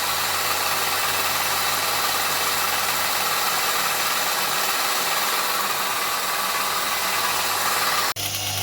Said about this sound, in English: now we have our old Chicago forge made in China, grinder started.